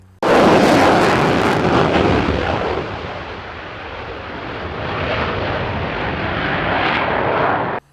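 JAS Gripen fighter jet roaring past, a loud sudden blast of engine noise that holds as a broad, sustained rumbling roar before cutting off.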